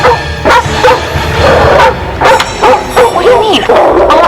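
A dog barking and yipping in short repeated bursts, close and loud, with whimpering yelps between barks and some background voice-like sound.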